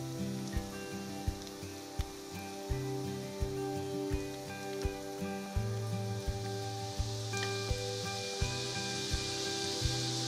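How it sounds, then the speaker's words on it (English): Bay leaf, cinnamon and cardamom fry in butter in a pan, a steady soft sizzle running under louder rhythmic background music. "Took butter here and also bay leaf, cinnamon and cardamom, and we fried them together."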